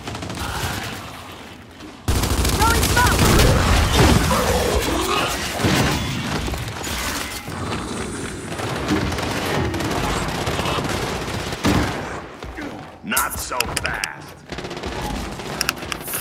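Loud, sustained machine-gun fire mixed with missile explosions and crashes during a Gears 5 multiplayer match. The heavy barrage runs almost without a break and ends in several sharp bursts, with players chatting underneath.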